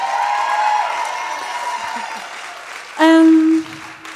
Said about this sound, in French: applaudissez-le. Ça presse.